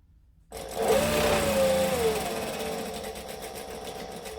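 A domestic sewing machine starts up after a brief silence and runs steadily at close range, whirring as it stitches fabric for a small make-up brush or pencil case, with no talking.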